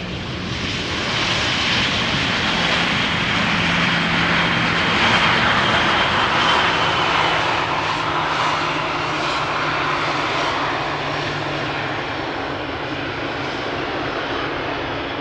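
Airliner arriving at Amsterdam Schiphol Airport, a loud, steady jet engine roar with a broad rushing hiss that holds at full strength throughout, nothing else audible over it.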